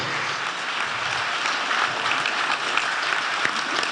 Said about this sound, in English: Round of applause, 30 seconds, ladies and gentlemen. Let's keep clapping, keep clapping.